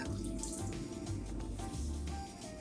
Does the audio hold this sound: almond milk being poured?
yes